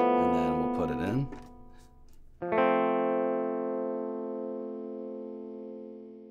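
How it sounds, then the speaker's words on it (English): Electric guitar through a compression pedal, with a single chord struck loudly that then rings long and evenly as it slowly fades, following a moment of talking at the start. "You can hear the compression is making it lower."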